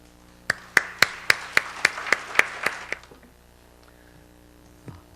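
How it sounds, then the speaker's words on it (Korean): An audience at a church fathers' prayer meeting claps in unison to welcome a professor: about ten evenly spaced, sharp claps over roughly two and a half seconds, then near silence. "우리 박수로 환영해 주시기 바랍니다"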